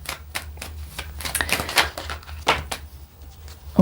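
Tarot cards being drawn and handled during a reading, a run of quick crisp flicks, slaps and shuffling clicks close by, with no talking.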